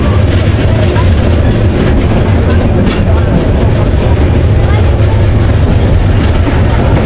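The Tista Express slows as it rolls into Dewanganj station, a loud, steady roar of wheels on track that fills the whole stretch without a break.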